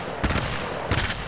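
Two loud gunshots in the battle royale shooter Apex Legends Mobile, each a sharp close crack with a brief tail, spaced under a second apart.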